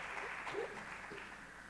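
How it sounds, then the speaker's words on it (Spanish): A conference audience applauds to welcome a panel of experts on qualitative research, a soft, distant, steady patter of clapping that carries on evenly throughout. "un aplauso para darle la bienvenida a Paula"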